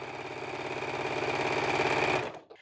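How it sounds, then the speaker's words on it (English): A sewing machine chain piecing fabric strips hums at a fast, even stitching rhythm, close and steady for about two seconds before stopping suddenly. "I'm just going to run a couple of these pieces through my machine, and I'm going to chain piece them"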